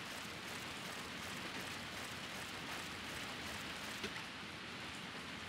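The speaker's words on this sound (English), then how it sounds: "The rain is so loud." Steady, dense rain pouring down without a break, a loud continuous hiss of drops drumming on surfaces close by.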